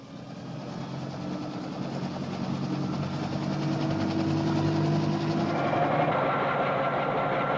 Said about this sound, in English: The first stage of the journey is aboard President Kennedy's helicopter to the airport